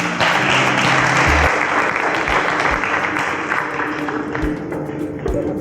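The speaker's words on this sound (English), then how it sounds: "A round of applause as they exit the stage." Studio audience at a televised contest show applauding as eliminated contestants leave the stage; dense, sustained clapping fills the whole stretch with a few low thumps underneath, tapering slightly toward the end.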